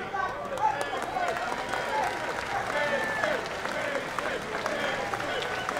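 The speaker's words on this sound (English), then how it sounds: "Please give a big Texas applause as we remember the legendary Gary Hart" A wrestling crowd in Dallas, Texas gives sustained applause for the late manager Gary Hart, a broad roar of clapping and cheering with an announcer's voice heard over it.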